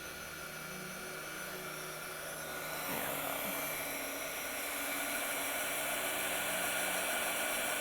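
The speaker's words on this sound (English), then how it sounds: "And then we will heat emboss that. Give it a moment to heat up." A heat embossing tool warming embossing powder on a handmade card gives a steady, close blowing hiss like a small hair dryer, growing slightly louder partway through and running without pause.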